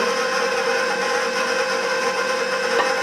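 An electric mixer runs at a steady whirring drone, mixing flour into a diabetic Kentucky butter cake batter. The hum is loud and unbroken, close by, with no talking over it.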